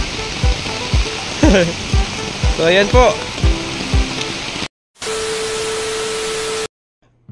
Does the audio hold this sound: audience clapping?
no